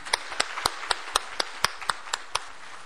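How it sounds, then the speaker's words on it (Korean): A single pair of hands claps steadily in a church service, about a dozen sharp, evenly spaced claps in a clear rhythm, close and fairly quiet with little other sound around them. "우리 박수로 환영해드립시다"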